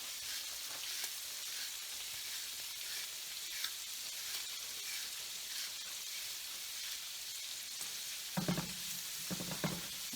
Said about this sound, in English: I'm just going to get busy moving that around because I don't want that garlic to burn.